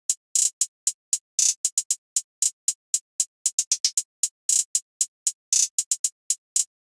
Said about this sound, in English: Then I added this hi-hat which sounds like this.